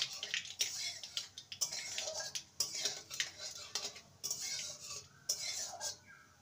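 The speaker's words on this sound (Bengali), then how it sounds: "ফোড়নটাকে ভেজে নেব" Half a teaspoon of black cumin seeds fry as a tempering in hot oil in a pan. A spatula scrapes and clinks against the metal in uneven bursts over a faint background hiss.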